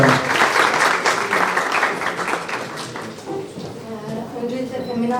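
An award ceremony audience in Bursa applauds as a winner is invited to the stage, steady mid-distance clapping filling the room and gradually thinning while voices murmur underneath.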